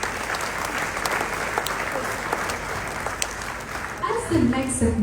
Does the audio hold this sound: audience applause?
yes